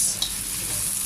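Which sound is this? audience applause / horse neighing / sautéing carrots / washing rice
sautéing carrots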